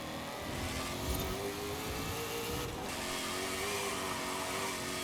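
A Ford Mustang Dark Horse in Forza Horizon 5 accelerates hard, its engine revving with a steady mid-pitched roar that rises and holds for several seconds, close and loud with no talking.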